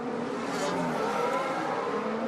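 A Red Bull Formula 1 car driven by Perez laps the Monaco street circuit during 2022 Grand Prix practice, its engine a loud, steady, high-pitched whine held throughout with no voices over it.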